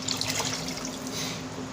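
Water being poured into a cooking pot for chicken biryani, a soft steady trickling and splashing pour at close range, fairly quiet and continuous throughout with no voices.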